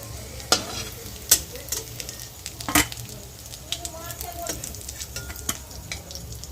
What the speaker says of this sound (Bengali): এটা ভাজা হয়ে গেছে এবার তুলে নেওয়া হবে একটি পাত্রে